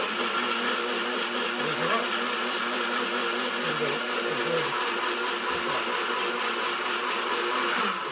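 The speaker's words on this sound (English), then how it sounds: "Whiz it up." A blender whizzes bulletproof keto coffee with whipping cream, a loud, steady motor whir that runs continuously up close, its pitch wavering slightly as the liquid churns.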